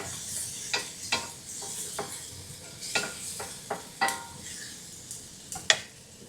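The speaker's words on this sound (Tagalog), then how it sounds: "Kailangan lutuin natin yung kamatis ng maayos." Tomatoes cooking in a pan over a steady low sizzle, with a spoon or spatula scraping and clacking against the pan in irregular strokes, close and clear, and no talking.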